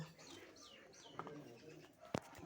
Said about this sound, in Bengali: এই যে পিন্স পাখি পিন্সকে খেতে দেবো